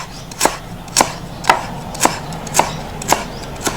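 Steady knife chops on a board, seven crisp strikes spaced about half a second apart, close and loud with nothing else around them.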